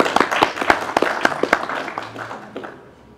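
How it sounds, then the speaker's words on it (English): A short burst of scattered hand clapping from a small group at a press conference, sharp claps fading out over a few seconds. "you really need to be applauded by everybody"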